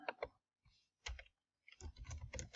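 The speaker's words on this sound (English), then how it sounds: "I'm going to type in a title." Close, quiet computer keyboard typing as a title is entered, short bursts of quick key taps broken by brief pauses, ending in a denser run of keystrokes.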